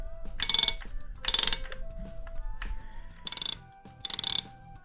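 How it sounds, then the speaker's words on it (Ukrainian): An electric bike's 42-tooth front chainring spins freely on a double chain setup while the cranks stay still, giving rapid ratcheting clicks in four separate bursts, close and clear, with soft mechanical rattling between them. "Як ви бачите, шатуни не крутяться, зірка крутиться вільно."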